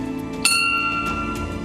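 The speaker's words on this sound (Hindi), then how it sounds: "मंदिरों की तरह यहां घंटी बजाई जाती है" A metal temple-style bell struck once at the Baba Chamliyal shrine, a sharp bright clang followed by a long ringing, shimmering decay that lingers clearly over quiet surroundings.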